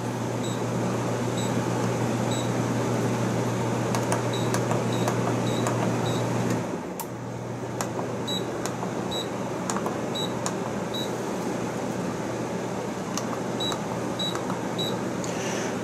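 A repaired air conditioner runs under power with a steady mechanical hum and fan drone, broken by faint periodic electronic beeps and a brief dip in the hum partway through.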